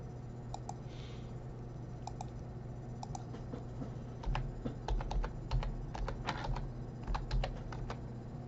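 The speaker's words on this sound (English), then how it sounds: "I'm going to type it in here." Typing on a computer keyboard: sparse key clicks at first, then a quicker burst of keystrokes in the second half, close and fairly quiet over a steady low hum.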